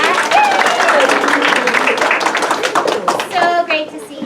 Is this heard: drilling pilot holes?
no